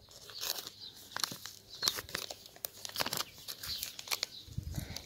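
Paper crinkling and tearing as a handmade paper surprise package containing earrings is opened up close, with quick irregular rustles and rips through the moment.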